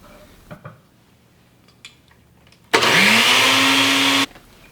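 After a few faint clicks, a blender roars on loudly for about a second and a half, blending basil and olive oil, its motor pitch climbing, then cuts off abruptly.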